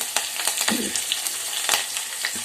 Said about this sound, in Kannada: ಸಾಸಿವೆ ಜೀರಿಗೆ ಚೆನ್ನಾಗಿ ಚಟಪಟ ಸಿಡಿದ ಮೇಲೆ ಹೆಚ್ಚಿಟ್ಕೊಂಡಿರೋ ಹಸಿಮೆಣಸಿನಕಾಯಿ ಕರಿಬೇವು ಮತ್ತು ಈರುಳ್ಳಿಯನ್ನು ಸೇರಿಸ್ತಾ ಇದ್ದೀನಿ